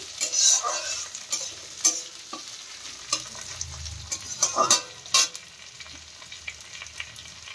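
Capsicum goes into a hot pan and is stir-fried with a constant sizzle. Sharp spoon scrapes and clinks of utensil against pan come at irregular moments, close and fairly loud. No one speaks.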